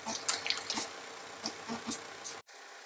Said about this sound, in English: I'm going to spray these with a bit of water just so they'll swell a little bit